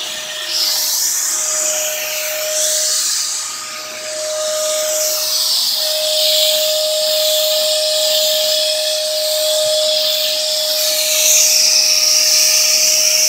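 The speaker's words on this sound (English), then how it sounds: "that vacuum is a little loud" A vacuum running loudly and steadily with a broad hiss and a constant whine, used nearby while dipping car rims with Plasti Dip, swelling slightly toward the end.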